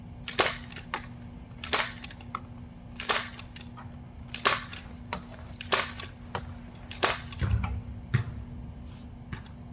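A modded Nerf Desperado blaster fires Adventure Force waffle darts in a string of sharp, snappy pops, roughly a dozen spaced about half a second to a second apart, close and loud over a low steady hum.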